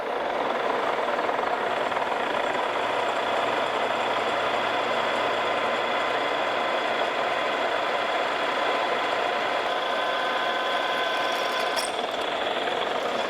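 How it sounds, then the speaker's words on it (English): A Carlton radial drill boring a hole by hand feed, giving a steady, dense mechanical whir and hum that runs evenly throughout, with a faint metallic squeal near the end. "So I'm just gonna come in here and manually drill the hole."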